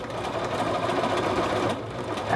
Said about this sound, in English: I'm just going to sew this seam at 5/8 of an inch.